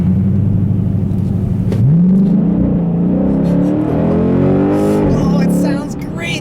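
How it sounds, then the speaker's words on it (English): A 2006 Chrysler 300C SRT8 V8 engine with Borla exhaust revs up hard with a deep, throaty exhaust note rising in pitch, loud and close, then easing off near the end. "That V8 engine with this Borla exhaust, man. Sounds so good, and it's so powerful."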